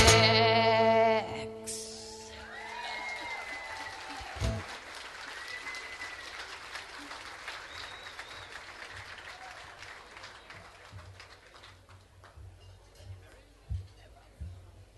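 Audience applause for a female performer named Mary at an awards ceremony, a broad wash of clapping that follows a loud musical ending and fades steadily under a bleating-like vocal tone and scattered voices.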